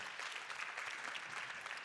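Audience at an awards ceremony applauding in dense, even clapping that fills the room, steady and fairly loud throughout.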